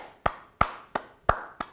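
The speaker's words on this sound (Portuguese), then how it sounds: "aplaudir o jovem" One person claps five sharp, evenly spaced times for a young man who works with sugarcane juice, at a motivational talk event. Each clap is close and crisp with a short decay, and there is no speech.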